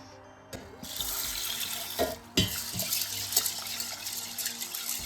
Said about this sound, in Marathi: ती स्वच्छ पाण्याने 2 पाण्याने स्वच्छ धुवून घेऊया.